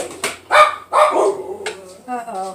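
Puppies barking and yipping in short sharp bursts close by, with a higher whimpering yelp near the end, in a home kitchen.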